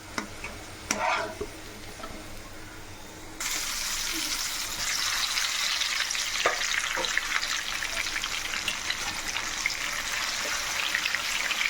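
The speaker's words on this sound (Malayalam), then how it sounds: "ഇതെല്ലാം ഒന്ന് വറുത്തെടുക്കട്ടെ" Mango pieces deep-fry in a pan of hot oil with a loud, steady, crackling sizzle that starts abruptly after a few quieter seconds and continues close up with no talk.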